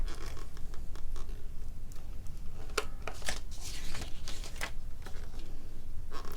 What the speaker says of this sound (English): just with my big tape gun, is I'm just going to go around this aperture